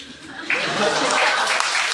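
A lecture audience breaks into applause, a bright, crowded patter of many hands that swells after a brief quieter start and then holds steady. A faint chuckle or murmur mixes in underneath.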